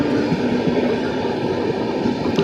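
Passenger train diverted from West Bengal through Bihar, Uttar Pradesh and Haryana into Punjab, its steady low rumble and wheel noise rolling on without pause, loud and close, with no voices.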